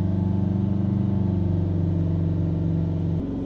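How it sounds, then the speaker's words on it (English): A Subaru Outback with a P1469 DPF fault runs with its engine held steady at about 3000 rpm, giving a constant, close, loud drone with no talk and a slight dip right at the end. "we're going to now hold the revs up on the engine"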